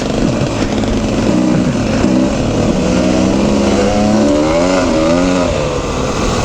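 A motorcycle on a ride at Frazier Park revs loud and close at high RPM, its steady engine drone climbing and dipping in pitch through the throttle, with no talk.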